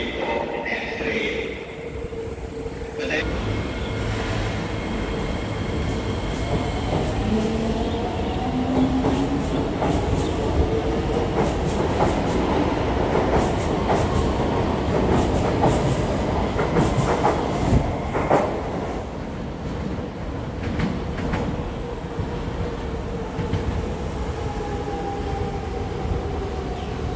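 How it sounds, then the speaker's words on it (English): An SMRT East West Line C151A train, set 569-570, runs at the EW4 station platform on its way to Changi Depot, giving a continuous loud rumble and wheel clatter with faint squeals. "The train at platform C and D is not for boarding."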